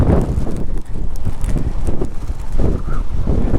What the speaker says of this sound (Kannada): ಗಾಳಿ ಮಾತ್ರ ತುಂಬ ಜೋರೈತೆ.